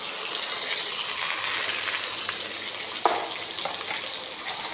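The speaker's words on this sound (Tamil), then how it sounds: "இப்போது கடுகு வெடிக்கட்டும். வெங்காயம், பச்சை மிளகா, கருவேப்பிலை போட்டுக்கலாம்." Mustard seeds crackle in hot oil with onion, green chili and curry leaves frying for a Tamil varamilagai sambar tempering; a steady close sizzle carries one sharp pop partway through.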